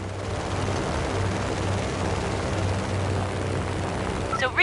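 Propeller plane in Just Cause 3, a steady low engine drone with a pulsing rhythm throughout and a brief sharper burst of sound at the very end.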